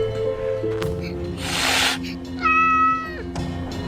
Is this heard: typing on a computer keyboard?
no